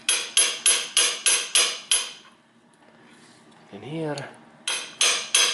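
Sharp metallic hammer blows on a small socket, driving in a driveshaft axle oil seal, ring out in a rapid, even series, pause briefly while someone speaks, then resume with several more strikes.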